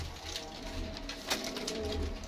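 Ghugar and Kasuri pigeons cooing close by, soft low repeated coos over a steady background hum, with no voices.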